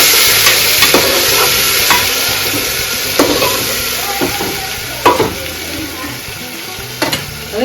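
Cluster beans and garlic sizzle loudly in hot oil while a utensil scrapes and stirs the pan at irregular intervals, clinking against the metal.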